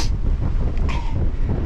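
Strong gusty wind on the Clingmans Dome trail, buffeting the microphone with a loud, steady low roar and brief higher whooshes, no talk.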